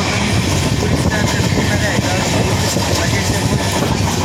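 Steady rumbling train running noise heard from aboard a moving train, continuous and fairly loud, with low-frequency rattle and broadband hiss throughout.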